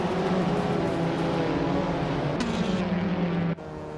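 A Mazda MX-5 Cup race car engine drones steadily at high revs in a racing video game, the tone shifting mid-way and then dropping abruptly near the end.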